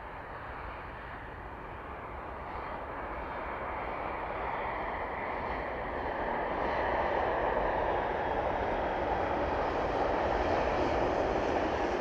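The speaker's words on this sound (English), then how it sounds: "Aerologic touching down then, and the Ryanair given permission to enter runway 27." An Aerologic cargo plane touches down on runway 27 at East Midlands Airport, a steady, loud jet roar that builds gradually and holds, with no voices.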